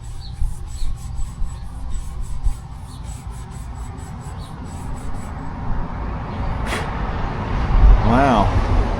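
Hand smoothing of the cast iron cylinder surface on an 8N Ford tractor: repeated close rubbing and rasping strokes over a steady low background hum.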